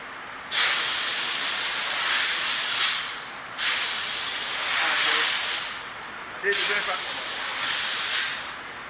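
Pneumatic vehicle lift raising a Volkswagen in a repair shop, three loud bursts of air hiss, each lasting a couple of seconds with short gaps between.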